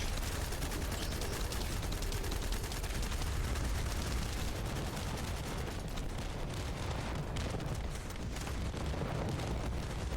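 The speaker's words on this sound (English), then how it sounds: "We want to just let our entire clip out of our gun." Sustained, dense video game gunfire as a weapon empties its whole magazine in a continuous roaring barrage with booming low end, loud and unbroken throughout with no speech.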